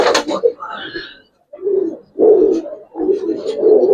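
Giribaz pigeons in a loft giving low, throaty coos in three rumbling bursts close by, with a brief higher call and a gap of near silence between them.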